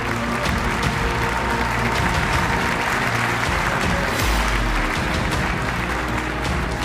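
A large crowd at a game developers' stage event applauds a studio head as he comes on stage, dense continuous clapping filling the room, loud and sustained throughout without any voices.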